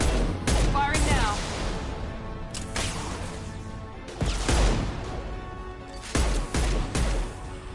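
Gunfire in Mass Effect 2: several sharp bursts of shots and impacts at irregular intervals, loud and close, separated by quieter stretches of combat ambience with voices.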